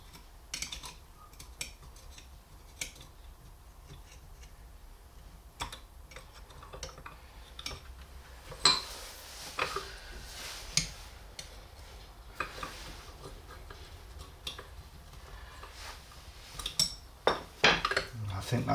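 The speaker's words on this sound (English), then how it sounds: "Just going to ease that off with a flat-headed screwdriver." A flat-headed screwdriver scrapes and clicks against a stuck, perished gasket on a Honda CB250N Super Dream carburettor in a series of small, close metallic taps and scratches, with brief talk in between.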